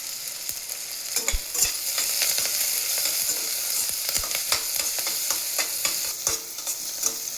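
Green chillies and curry leaves fry in hot ghee with a loud, steady sizzle and crackle, punctuated by sharp spoon scrapes and pops against the pan.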